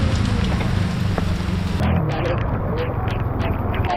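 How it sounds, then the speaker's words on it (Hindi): Monsoon rain pours at the base of the Mahuli Fort trek near a parking area. It makes a loud, steady, close hiss with scattered drop impacts that thicken after the first couple of seconds. "यहाँ पे बारिश शुरू हो गया है।"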